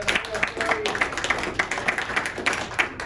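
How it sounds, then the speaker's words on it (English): A crowd claps and applauds, a dense patter of hands sustained throughout. "big round of applause"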